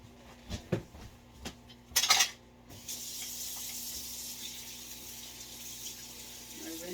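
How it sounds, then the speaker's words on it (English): A kitchen tablespoon clinks a few times against a sink before the tap opens, then water runs steadily from the faucet in a soft, continuous spray as the spoon is rinsed. "Rinse off my tablespoon because I just used it for a previous recipe."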